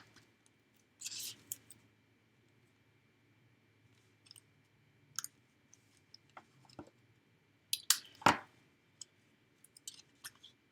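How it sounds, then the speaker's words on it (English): Scissors snip paper strips for a handmade interactive Halloween card, making sparse, crisp cuts and clicks with quiet gaps between them and a louder cluster of snips toward the end. "I'm just cutting these strips and putting them along the edge"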